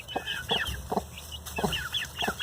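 A hen sits on a nest nearby, giving a run of short, soft clucks in uneven bursts, close and fairly clear, with no talking.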